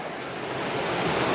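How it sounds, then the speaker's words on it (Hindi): Fast-flowing mountain river in the Bhaba Valley, Kinnaur: a steady, loud broadband rush of churning water that swells slightly toward the end, heard alone without voices. "और पानी की स्पीड देखो भैया"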